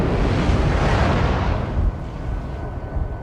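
Torpedo hits explode against a ship in a naval battle video game, a loud, heavy, rumbling blast that swells and then slowly decays over a few seconds, with no talking.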